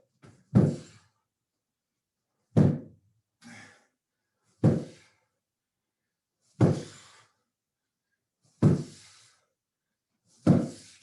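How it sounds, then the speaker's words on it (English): Pillow slams during a bootcamp workout give seven sharp, heavy thuds, each decaying quickly, spaced about two seconds apart with a softer one in between, separated by silence. "We got our last round here. We're doing pillow slams."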